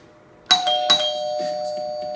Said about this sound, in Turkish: Birinci düğmeye bastım. Bir kere on off çalıştı ve kapı zili çaldı.